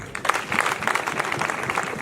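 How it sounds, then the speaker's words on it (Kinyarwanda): Audience applause at a gathering: dense, steady clapping sustained for about two seconds with no voices over it. "twongera amashyi ku ijambo"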